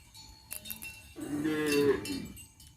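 Grazing cattle wearing cowbells: a cow gives a loud, close moo lasting about a second, with a few bell clanks before it and faint rural background.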